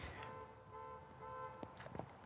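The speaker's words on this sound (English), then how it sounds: "Someone is honking like mad." A car horn honks repeatedly in the distance beyond a garden allotment, several faint sustained toots in a row, followed by a few soft nearby knocks and rustles.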